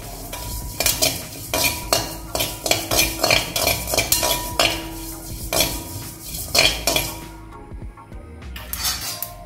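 A spoon scrapes and clatters against a pan as homemade curry powder spices are dry-roasted, in a steady run of loud, close metallic strokes with a short quieter pause near the end.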